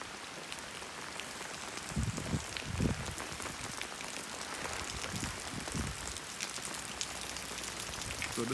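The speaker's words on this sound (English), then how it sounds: "The rain is falling." Light rain falls steadily outside a parish church in Barbados, a soft, constant patter on surfaces with a few heavier drips close by, no talking.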